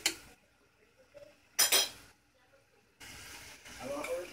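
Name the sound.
stir frying coconut curry shrimp in a pan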